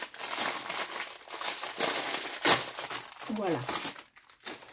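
Crinkly plastic packaging from a Temu haul is unwrapped in close, loud bursts of crackling and rustling, with a brief voice speaking over it.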